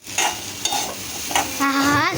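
Mango seed mouth freshener roasting in ghee in a pan at home, sizzling steadily under repeated scraping stirs, with a brief higher squeak near the end.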